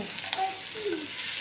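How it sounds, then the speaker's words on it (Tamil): Mustard seeds crackling in hot oil during tempering for a home-cooked dish, a soft continuous sizzle with a few faint pops, close and fairly quiet. "இப்போது கடுகு தாளிச்சிட்டோங்க."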